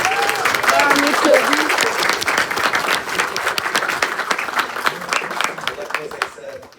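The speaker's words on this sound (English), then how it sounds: "Let's give a round of applause for" An audience at a vintage car meeting breaks into a round of applause, loud dense clapping that swells at once and then slowly thins and fades, with voices talking underneath.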